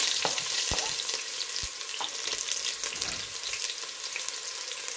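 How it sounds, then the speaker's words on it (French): Onions hitting preheated oil sizzle steadily and fairly close, a dense crackling hiss broken by a few sharp pops and clinks of stirring. Nobody speaks. "Là, l'huile a préchauffé. Je rajoute les oignons."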